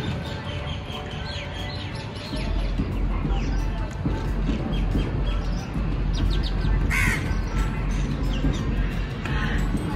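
Crows caw repeatedly and loudly nearby, harsh calls overlapping against outdoor background noise, with a person talking faintly at times.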